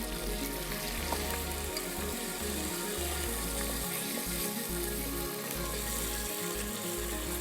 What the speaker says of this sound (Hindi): अब चिकन डाल के थोड़ा सौते करेंगे